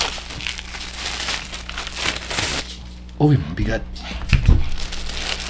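Plastic wrap is crinkled and torn off a new Furycube E68 68-key aluminum keyboard, with crackling and rustling in several bursts close to the mic while a person talks.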